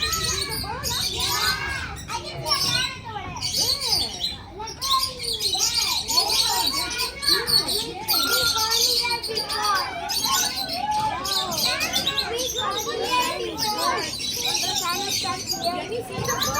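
Many birds chirping outdoors near a nest, dense overlapping tweets and calls filling the air, with children's chatter mixed in.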